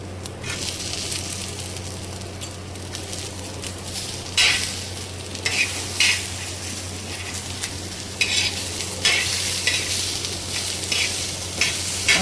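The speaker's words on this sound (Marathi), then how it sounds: "म्हणून मी तव्यावरच भाजत आहे" Tomatoes, onion and garlic roasting on an iron tawa: a continuous soft sizzle broken by louder crackling bursts and scraping stirs at irregular intervals.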